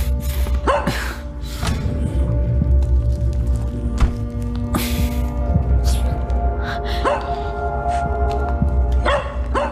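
A small dog yaps in short, sharp barks scattered among creaking and mechanical noises, with some breathy vocal sounds in the mix.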